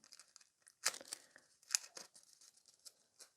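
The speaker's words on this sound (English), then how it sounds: "Each time try to pick up a fresh piece of the foil" Thin transfer foil for Christmas nail art being picked up and handled, giving soft, quiet crinkling and rustling with a few sharper crackles, in brief irregular bursts close by.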